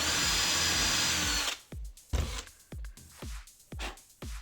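A power drill with a 5mm bit bores out rivets on a window lock gearbox. A long continuous whine runs first, then a series of short bursts with sharp starts and brief pauses, close and loud, with no talking.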